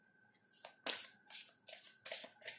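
A deck of tarot cards of the Major Arcana being shuffled and handled by hand, several quick riffling bursts in an uneven rhythm, close and fairly quiet, with no talking.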